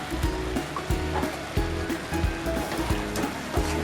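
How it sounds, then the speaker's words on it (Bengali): Eggs going into a pan of simmering poppy seed curry, with a steady bubbling sizzle and small irregular pops and knocks throughout. "এবার আমি ডিমগুলো এর মধ্যে দিয়ে দিচ্ছি"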